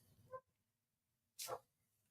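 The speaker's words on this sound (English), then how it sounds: "My dog is barking at what I don't know." A pet dog barks indoors in two short, muffled yelps a second apart, both faint and distant, with quiet room tone between them.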